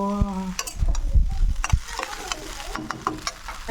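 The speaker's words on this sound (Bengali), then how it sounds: "এবার এর মধ্যে কেটে রাখা ছোটো ছোটো করে কেটে রাখা আলুটা দিয়ে দেবো" Chopped potatoes drop into frying spices in a pan and get stirred, with a light sizzle, clattering spoon scrapes and knocks, and a short tonal sound at the start.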